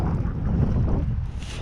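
Wind buffets the microphone in a continuous low, gusty roar during a snowy blizzard, loud and close, with no voices.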